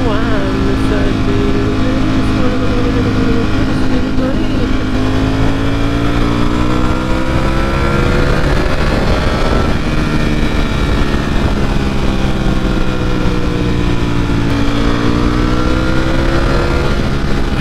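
A bike ridden fast, its engine revving hard through rising and falling pitch sweeps as it accelerates and shifts, loud and steady with constant wind and road roar throughout.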